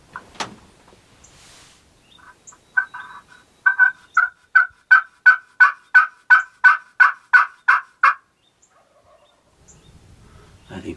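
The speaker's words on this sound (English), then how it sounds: "But we got us a gobbler coming. We got us a gobbler over here." A wild turkey gobbler gobbles outdoors in a long run of about fifteen sharp, evenly spaced calls, moderately close and loud, with a few softer clucks before it and quiet ambience after.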